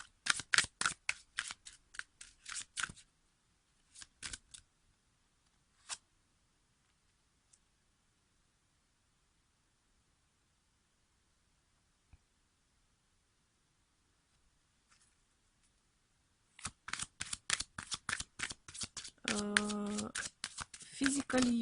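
Tarot cards are riffled and shuffled in quick bursts of crisp flapping, fading to quiet pauses with a few single clicks, then returning as a long rapid flurry near the end.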